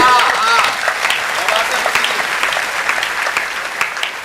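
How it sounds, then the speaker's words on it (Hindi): An audience at a Hindi poetry recital breaks into applause, a broad rattle of many hands clapping that starts loud and gradually tapers, with a voice speaking over it. "एक बार जोरदार तालियां बजा दीजिए।"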